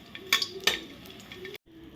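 Edible gum (dink) frying in hot ghee, a steady soft sizzle with two sharp metallic clinks of a utensil against the pan, then a brief silence before the sizzle returns.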